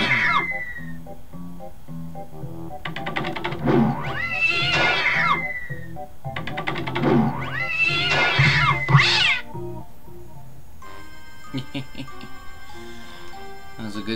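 A cat in the Blazing Dragons video game lets out several drawn-out, wavering meows in two bursts over a soft ticking, clock-like backdrop with game music.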